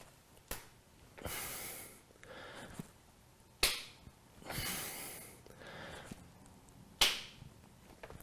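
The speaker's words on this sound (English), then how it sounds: "3 times, hop, clap your feet" Three sharp slaps of feet clapping together during hops in a vinyasa yoga flow, spaced a few seconds apart, with heavy breathing and soft rustling between them.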